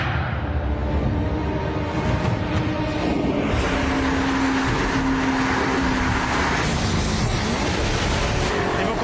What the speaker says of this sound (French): une beauté équipée d'un V8 de 450 chevaux et nous sommes sur un circuit, le circuit d'essai privé d'Alfa Romeo